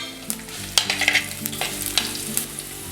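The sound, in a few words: sautéing garlic, ginger and kudampuli in a pan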